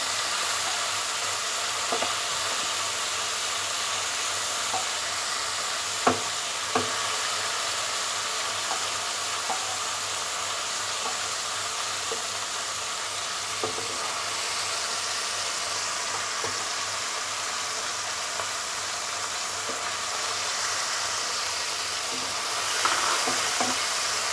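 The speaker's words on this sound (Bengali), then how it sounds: "মাছগুলিকে আমি হালকা ভাজবো বেশি ভাজতে হয় না" Shrimp frying lightly in oil in a pan, a soft continuous sizzle with occasional faint spoon taps and stirring clicks, close but fairly quiet and steady throughout with no talking.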